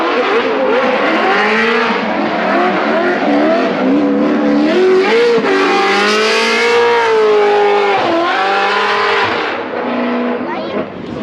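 Nissan S14 Rocket Bunny drift cars run on a track with loud, continuous engine revving, the pitch sweeping up and down as they accelerate, and bursts of tire squeal nearby.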